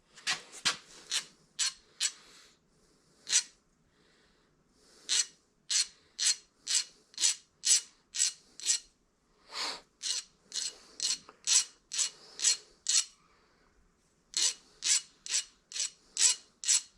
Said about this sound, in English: There's a rasp, that might work.